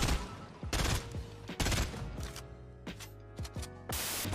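Gunfire in a Fortnite Battle Royale match: several sharp, close bursts of shots spaced irregularly, with quieter ringing and mechanical tails between them and a loud burst at the end.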